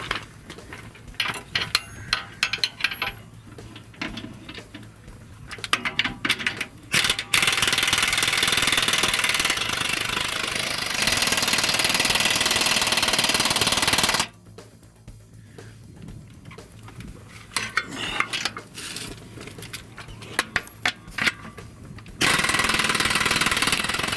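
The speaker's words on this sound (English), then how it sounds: "Now we're tightening the front cross member." Power tool tightening front cross member bolts during a 4 inch lift install on a 2016 Chevy 1500 LT, long loud continuous hammering runs alternating with stretches of clanking and rattling work noise, close by.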